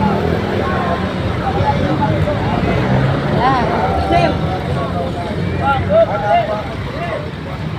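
Public highway traffic with vehicles passing, a continuous rumbling road noise under close conversation and occasional horn-like tones.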